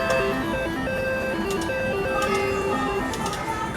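Dancing Drums Explosion slot machine chimes out a bright, stepped electronic melody of tonal beeps when a symbol lands, ringing continuously and loudly with brief sparkly accents over a busy casino background.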